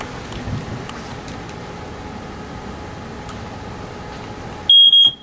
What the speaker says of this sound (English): It's probably gonna beep in a second.